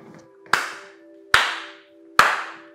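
Three single hand claps ring out about a second apart, sharp and close with a short echoing decay, over a faint steady background hum and no talking.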